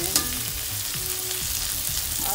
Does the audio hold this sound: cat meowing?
no